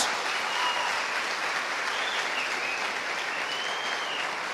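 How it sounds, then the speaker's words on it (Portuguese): A standing church congregation claps loudly and steadily for Jesus during a celebration service, a dense, even wash of applause with no break. "aplaudam bem forte ao Senhor Jesus"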